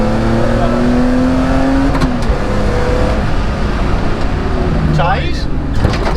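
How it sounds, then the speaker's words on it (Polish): A BMW E46 M3 launches at full throttle on the Modlin race track using launch control: a loud, continuous engine roar climbs in pitch through the first two seconds, then shifts and keeps pulling, with a voice over it. "czyli ruszamy. Cały czas mam gaz w podłodze."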